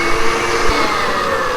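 A stand mixer whips egg yolks and hot sugar syrup at high speed, producing a loud, steady, close whirring drone with slight fluctuations and no talking.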